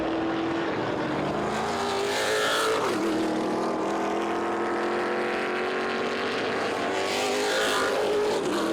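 Trans Am race cars lapping the Portland circuit, engines roaring loud and continuous with a downshift, then a rising rev as they power on, no talk over them.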